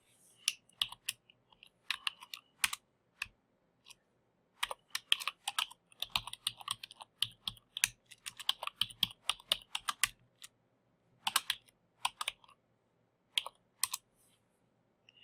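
Bursts of typing on a computer keyboard, close and fairly quiet, with irregular clusters of key clicks separated by short pauses.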